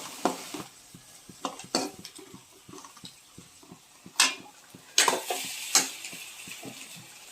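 A spoon stirs goat blood fry in a pan as its liquid cooks off, making irregular close scraping and clinking strokes over a faint sizzle, with no voices.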